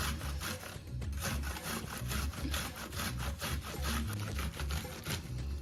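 Tapioca root grated by hand on a grater, giving a steady run of rhythmic, scraping strokes at a moderate, close-up level with no talk.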